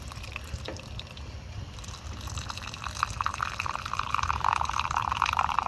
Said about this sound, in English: we'll add the cappuccino to my wooden cup, and I'll get the hot water for that